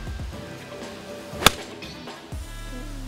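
A single sharp crack of a golf club striking the ball rings out once mid-clip on a short-hole course at a club championship, loud and isolated against quiet outdoor background with no talk.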